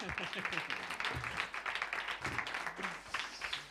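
Faint audience clapping for a bassist at an acoustic concert by a band, a brief, continuous patter of hands with a few voices mixed in.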